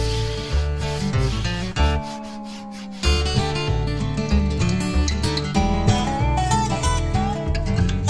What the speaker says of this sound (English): I am going to do a light sanding and then another coat of